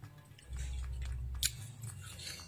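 Someone eats fried tofu coated in salted egg by hand, producing close, quiet crunching and chewing with one sharper crisp bite partway through, against a soft low background.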